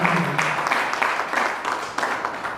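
An audience applauds at the official launch of a women's trade fair, with a dense, steady wash of many hands clapping throughout.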